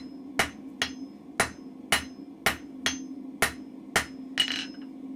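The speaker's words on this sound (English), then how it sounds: "with forging a square taper" A hammer forges a square taper on a steel chisel, striking nine sharp, ringing blows at a steady, even rhythm, close and loud with no talking.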